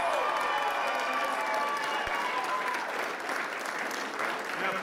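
A large crowd applauds and cheers at Labor's 2022 Victorian state election victory celebration, a dense, loud, continuous wash of clapping with crowd voices throughout.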